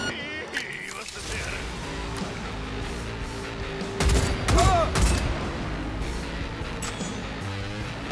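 Gunfire in Cyberpunk 2077 breaking out among game ambience and effects, with a cluster of loud, close shots around the middle and scattered sharp impacts elsewhere.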